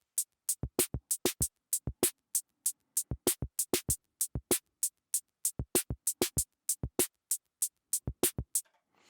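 A Boss Dr. Rhythm drum machine plays a programmed bass drum and snare pattern: crisp, dry electronic hits in a quick, steady groove, heard alone with silence between beats.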